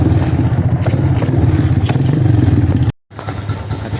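A Honda XRM 125 motorcycle engine runs close up with a clattering knock from a worn crankshaft bearing, a rhythmic mechanical rattle over the idle that briefly cuts out near the end.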